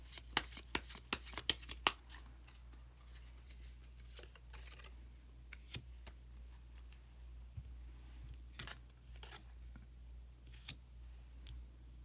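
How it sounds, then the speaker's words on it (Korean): Osho Zen tarot cards being shuffled and drawn, a quick burst of close riffling clicks over the first two seconds, then sparse soft card snaps and slides against a low steady hum. "카드 한 장을 더 뽑고 이야기 계속 나누도록 하겠습니다"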